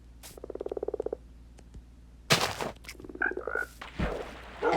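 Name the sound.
frogs croaking in Minecraft 1.19 video game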